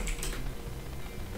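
Rapid typing on a computer keyboard while entering a command, a short burst of close, crisp key clicks with a few heavier presses.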